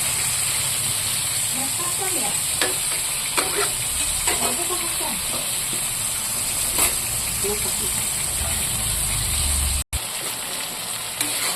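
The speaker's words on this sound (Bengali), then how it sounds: "আর একটু ভাজা হবে এটা" Vegetables frying in a pan while someone stirs them alongside fish cooking, a steady hiss of oil with scattered scraping and clinks of the spatula, close and fairly loud.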